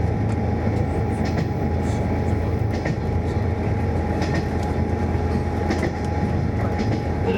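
Train on the Gono line running along the Sea of Japan coast, a steady close rumble with faint clickety-clack of wheels on rails continuing without pause, no voices.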